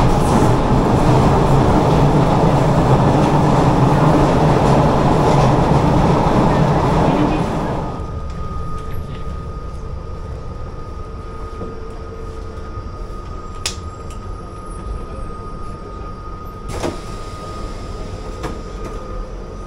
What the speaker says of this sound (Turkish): Metro çok gürültülüydü ve sesim çıkmayacak gibi oldu.